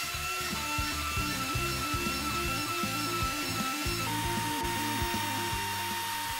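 A home-built CNC machine cuts walnut dining table parts, its stepper motors droning in rhythmic, stepping low tones under a constant high spindle whine, steady and close with no voices.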